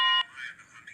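Cartoon sound effect of a stomach ringing like a bell, a bright, loud electronic-sounding ring that cuts off after a moment, followed by fainter wavering tones.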